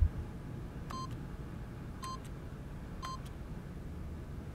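Keypad buttons pressed repeatedly in The Stanley Parable video game: three sharp electronic beep-tones at roughly one-second intervals, clear over a steady low background hum, no voices.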